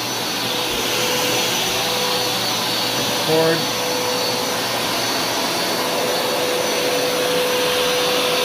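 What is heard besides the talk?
Hoover Smartwash automatic carpet cleaner running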